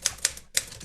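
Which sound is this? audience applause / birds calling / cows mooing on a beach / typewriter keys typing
typewriter keys typing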